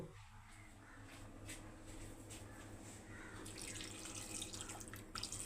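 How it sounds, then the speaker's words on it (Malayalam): Water pours steadily into a cooking pot to boil chopped jackfruit seeds, a continuous close splashing rush that lasts throughout with no talking. "അത് വേവാനുള്ള വെള്ളം ഒഴിച്ച്"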